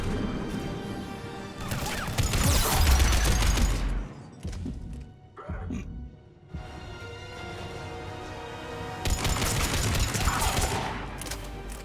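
Enemy gunfire in the video game Mass Effect 3, bursts of rapid shots and crashing impacts in two dense volleys separated by a quieter stretch of scattered pops and thumps.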